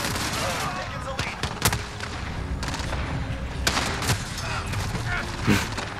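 Sporadic gunfire in Call of Duty Modern Warfare, with scattered sharp shots and short bursts over a busy background of game noise, and a voice talking at times.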